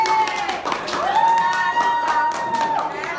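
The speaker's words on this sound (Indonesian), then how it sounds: "beri tepuk tangan buat dia" A classroom of students claps and cheers for a classmate, a lively, close burst of mixed clapping and excited shouting that continues from start to finish, with a whistle-like tone rising above it.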